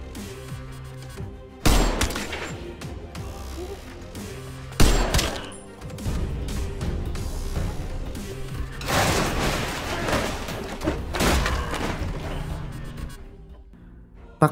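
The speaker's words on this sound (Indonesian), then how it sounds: "Taesik juga menembaki Jongsuk dengan paku" Nail gun shots fire in a violent film fight scene, several sharp loud bangs separated by stretches of dense rumbling action noise and music, with no voices.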